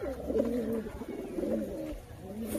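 Domestic pigeons coo in a home coop, their soft, low, throaty calls rolling in close, repeated phrases that continue steadily throughout.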